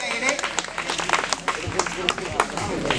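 A crowd claps for a first-prize winner at an award announcement, with crisp, irregular hand claps close by and a voice talking over them.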